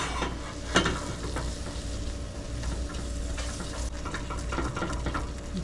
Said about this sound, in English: Add in 2 tablespoons of flour. Whisk that up.